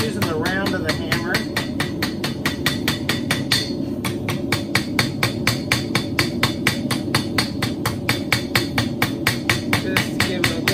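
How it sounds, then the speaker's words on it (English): A blacksmith shapes a metal feather, tapering its leaf with the round face of the hammer: steady, evenly spaced ringing strikes, close and loud, continuing throughout. "I'm using the round of the hammer."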